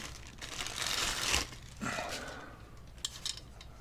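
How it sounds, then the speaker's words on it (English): Crinkly plastic wrapping rustles and crackles as a 1970s airplane-shaped AM transistor radio is pulled free, with a louder burst of crumpling, a pause, then lighter scattered crinkles close to the microphone. "let's take it out of the plastic."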